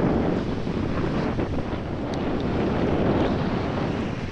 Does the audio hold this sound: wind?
yes